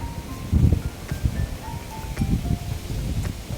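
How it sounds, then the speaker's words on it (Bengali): Strong stormy wind buffets outdoors in gusty low rumbles, with leaves rustling in uneven surges and a few faint tonal chirps in the background. "বৃষ্টি অত হচ্ছে না, কিন্তু প্রচন্ড ঝোড়ো হাওয়া দিচ্ছে"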